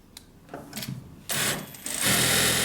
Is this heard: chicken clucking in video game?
no